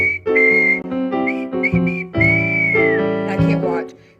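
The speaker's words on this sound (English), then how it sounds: "So, yeah, she whistles too." A woman whistles a blues melody in sustained, wavering tones with short phrases and slides, close and clear over a continuous instrumental backing.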